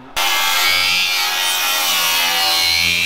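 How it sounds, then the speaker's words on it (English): A metal piece for a rat rod wrecker fender being cut: a loud, continuous, harsh grinding-cutting whine that starts abruptly and holds steady, close by, with no talking. "I'm gonna cut this piece off so that it'll fit"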